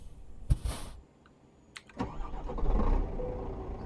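Truck engine cranking to life in Euro Truck Simulator 2, with a short sharp click and hiss first, then a pause, then the starter catching and the diesel settling into a steady low idle.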